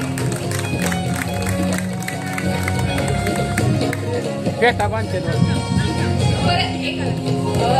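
A school reunion crowd applauds councillor Kalpana Kate, steady clapping mixed with crowd noise and music, sustained throughout at moderate level.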